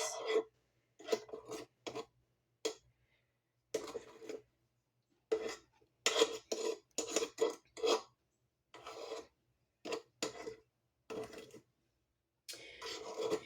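A spatula scrapes the sides of a mixing bowl of cream cheese pound cake batter in a rapid series of short, rasping strokes with brief pauses between them, close and fairly quiet.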